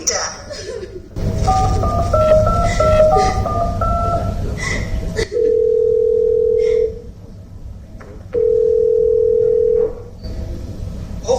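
A telephone rings back with two long steady tones separated by a pause, after a short melodic jingle over background noise.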